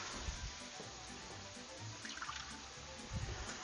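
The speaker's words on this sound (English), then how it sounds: "I'm going to add a little water." A thin stream of water trickles into marinara sauce in a pan, a faint, steady pour under low kitchen noise with no speech.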